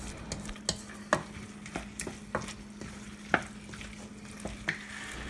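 Spoon scraping and knocking through a thick beef stew as a flour and beef OXO mixture is stirred in, with Guinness, irregular clacks over a low steady hum.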